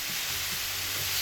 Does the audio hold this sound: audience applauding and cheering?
no